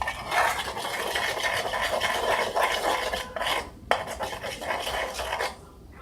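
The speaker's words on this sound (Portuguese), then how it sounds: "aí eu vou mexendo aqui" Slime is worked in a bowl with a utensil, producing a dense, rasping, wet scraping that churns continuously and close up, pausing briefly a couple of times before fading at the end.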